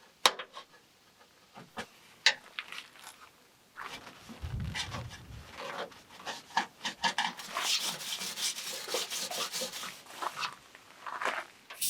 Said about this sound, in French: Le tournevis s'avère assez efficace pour retirer le joint dans les parties